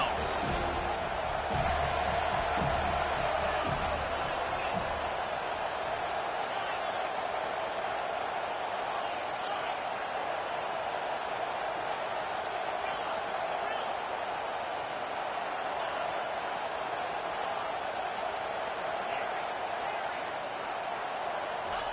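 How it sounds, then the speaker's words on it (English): Crowd roar at a college football game on third down, a sustained loud wash of stadium noise that holds steady throughout, with a few sharp bangs early on and no clear talk. "Decibels rising as the crowd gets behind this defense on 3rd down."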